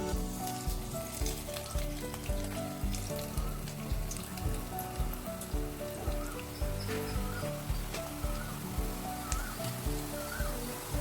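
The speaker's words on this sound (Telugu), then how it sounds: "ఇప్పుడు నూనె కాగింది కాబట్టి చక్రాల్ని ఒత్తుకుందాం" Besan dough rings (chakralu) pressed into hot oil for thokkudu laddu, frying with a steady, dense sizzle and bubbling that runs throughout, with faint low tonal background sounds underneath and no talking.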